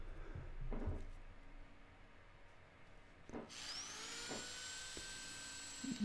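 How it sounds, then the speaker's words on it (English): Power sander on the outside of a turned wooden nest bowl spinning on a lathe, a few scrapes and knocks and then a loud steady whine that holds close. "I'm going to go ahead and sand this down through all the grits right now so it's nice and smooth"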